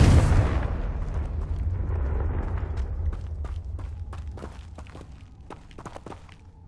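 A Confringo blasting spell goes off as a loud, deep explosion boom that rumbles and fades over several seconds, with scattered crackling pops and debris ticks in the decaying tail.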